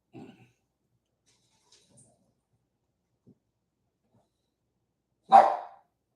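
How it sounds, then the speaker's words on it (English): A lone dog lets out one short, sharp bark near the end after several seconds of near silence, with no talking. "What are you barking at?"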